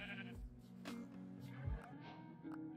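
Minecraft sheep bleating in a video game, a couple of short wavering bleats at low level mixed with soft game background sounds, heard without any talk.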